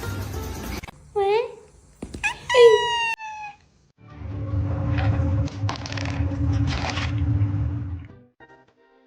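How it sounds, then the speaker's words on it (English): A pet dog gives a few short, high whining whimpers, then a louder, rough stretch of barking and yelping, with a faint tail of quieter sounds at the end. "How my pup guards the neighborhood."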